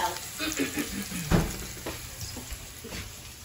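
Steak frying in a pan, a soft, fairly quiet sizzle that runs steadily with one brief louder knock partway through.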